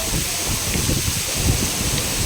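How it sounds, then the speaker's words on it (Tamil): Heavy rain driven by wind, a steady dense hiss and rumble of downpour and gusts that stays loud and continuous throughout, with no voices. "காற்றோடு சேர்ந்து மழையும் செம்மையாக அடிக்குது"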